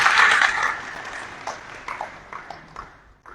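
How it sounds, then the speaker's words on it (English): An audience at a talk on reading and creative writing gives a burst of applause that starts loud and dies away into a few last scattered claps. "I want you to give him a proper round of applause, please."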